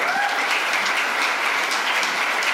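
Conference audience at a talk on artificial intelligence and jobs gives a steady, even round of applause, many hands clapping at once with no voices on top.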